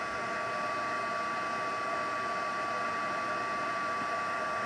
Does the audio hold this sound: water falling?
no